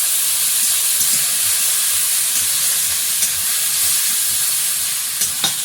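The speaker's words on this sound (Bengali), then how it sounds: "পেঁয়াজ রসুন আদা ভালো করে ভাজা" Onion, garlic and ginger fry in hot oil in a home kitchen, giving a steady, close sizzling hiss with faint crackles and occasional stirring scrapes throughout.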